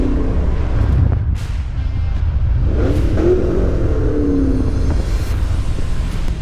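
A car fitted with MagnaFlow aftermarket exhaust accelerates hard, its engine rumbling and rising in pitch under steady wind and road noise from inside the cabin.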